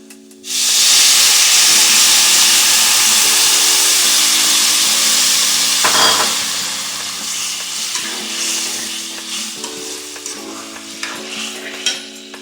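Tamarind water hits a pan of frying bitter gourd and onion with a sudden loud hiss and sizzle that fades gradually, with a clank of a utensil midway; no talking.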